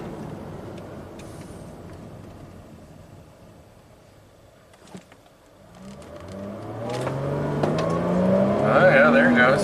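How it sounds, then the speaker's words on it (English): A supercharged 2018 Jaguar XE AWD is heard from inside the cabin. Its engine starts low and muffled, then builds as it accelerates, the rising tone growing louder toward the end over road noise. "Let's see if the supercharger works."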